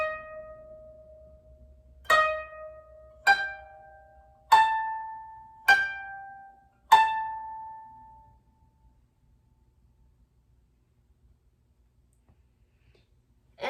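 Koto plucked note by note for a beginner's Usagi (Rabbit) melody, five clear bright twangs spaced about a second apart, each ringing and decaying, then silence before another note begins at the end.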